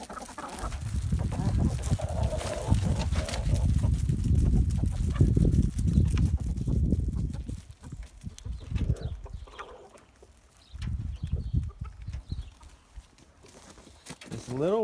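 Chickens clucking outdoors in the snow as they leave their coop, a busy run of low calls in the first half that thins to sparse clucks, with occasional talk nearby.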